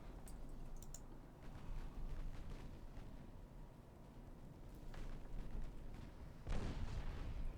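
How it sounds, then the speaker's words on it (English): Battleship guns fire in the naval strategy game Ultimate Admiral Dreadnoughts: muffled, distant booming salvos and rumble, with a heavier blast near the end over faint clicking. "Ooh, battleship fire."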